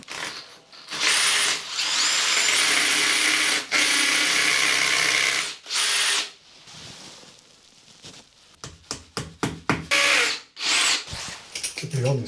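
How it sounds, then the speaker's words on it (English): A hammer drill whines in long sustained bursts, then a rapid series of short stop-start pulses, loud and close. "I've got the old hammer drill there."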